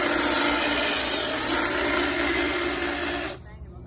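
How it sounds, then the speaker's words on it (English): A Greenworks 80-volt cordless hedge trimmer runs loud and steady with a dense buzzing whir, then cuts off abruptly near the end, leaving quiet background. "80 volt Greenworks hedge trimmer."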